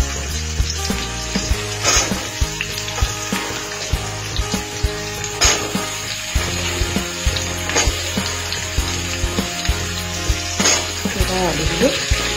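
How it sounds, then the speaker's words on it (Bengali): Potatoes frying in a pan for a vegetarian cauliflower dish, a continuous close sizzle broken by scraping stirs and clinks, loud and steady throughout. "আলুগুলো একটু ভাজা হোক"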